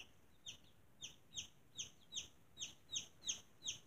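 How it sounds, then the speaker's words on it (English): Baby chicks peep in a regular series of about ten short, high chirps, each roughly a third of a second apart, faint and alone against a quiet background. "Chickens are not stupid."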